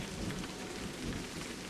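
Steady rain with a low thunder rumble in the video game A Highland Song, a faint, even wash of rainfall under a soft distant roll, with no talking.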